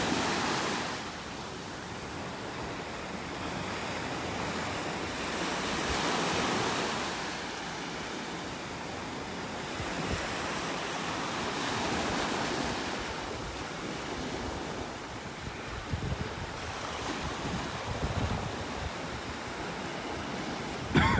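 Ocean waves breaking at Delnor-Wiggins beach in North Naples, Florida, a continuous rolling surf wash that swells and recedes in slow surges, mixed with wind buffeting the microphone, with no talk.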